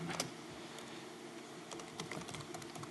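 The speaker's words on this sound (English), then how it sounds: "So I'm gonna type it here." Computer keyboard typing while a serial number is entered on a smart TV hacking setup, with soft scattered keystrokes in short bursts, fairly faint over a steady room hum and no talking.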